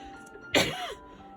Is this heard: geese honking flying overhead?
no